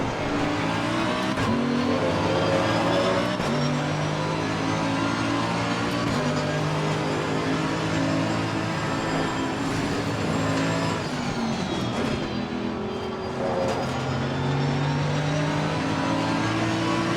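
Race car in Assetto Corsa Competizione at Imola, engine droning loudly and shifting down through the gears into first for a hairpin, with pitch drops, blips and revving over continuous engine noise.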